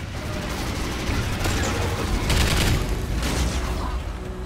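Sustained, loud gunfire aimed at the Breeder in Call of Duty Ghosts, a dense unbroken barrage of rapid shots and impacts filling the whole stretch.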